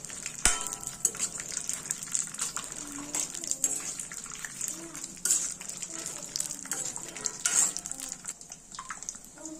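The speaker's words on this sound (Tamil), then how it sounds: "முந்திரி நல்லா தாளிச்சிட்டோம்." Cashews fry in plenty of ghee in a large pot for a big batch of rice payasam. The sizzling and bubbling is close and steady, with stirring and scraping clatter, and a voice speaks over it.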